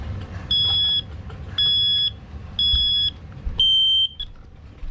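A smoke alarm sounding during a system test: four loud, shrill electronic beeps, each about half a second long and evenly spaced, the last one slightly longer, with a quiet room in between.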